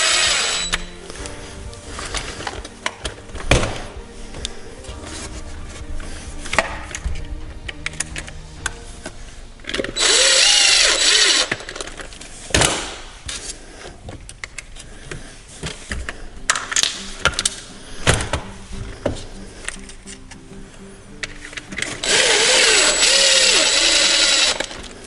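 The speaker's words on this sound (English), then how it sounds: "don't tighten these all the way with the drill." A handheld drill drives screws into a Traxxas RC motor mount in several short whirring bursts, with small clicks and clatter of parts handled between them, close and fairly loud.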